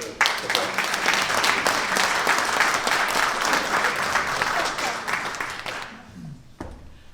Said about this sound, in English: how about a round of applause for Bill?